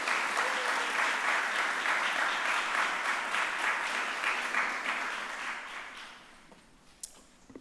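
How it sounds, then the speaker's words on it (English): Sustained audience applause at a mayor's press conference in Philadelphia, loud and steady clapping from a crowd that gradually fades out toward the end. "Please give her a big round of applause"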